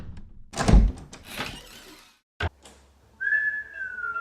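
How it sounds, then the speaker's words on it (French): Inside a house, a door opens with a few loud knocks and rattles and then one sharp thunk, followed by a long, high, sliding whistle-like squeak. "Ah, tiens, une porte."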